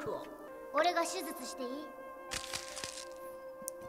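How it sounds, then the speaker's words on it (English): A bone-cracking sound effect from the One Piece anime: a sharp crunching crack followed by scattered snaps and crackles, mixed under music and voices. "sound like her bones just fucking dismantled."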